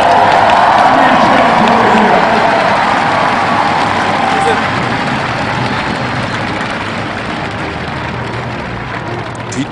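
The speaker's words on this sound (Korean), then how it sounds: "아버님께 다시 한번 큰 박수로" A large stadium crowd at a baseball retirement ceremony applauds and cheers in a dense, continuous roar that slowly fades, with a voice over a loudspeaker faintly mixed in.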